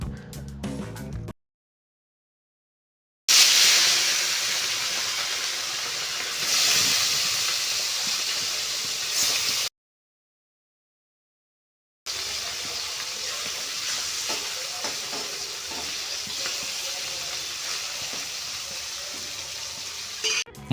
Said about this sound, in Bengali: মাছগুলোকে কিন্তু ভালো করে কড়া করে ভাজতে হবে